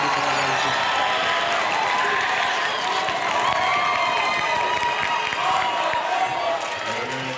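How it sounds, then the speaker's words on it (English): Loud, dense crowd applause and cheering fill a basketball gym during a Peninsula game, a continuous roar of clapping and voices with no pauses. "And lots of applause."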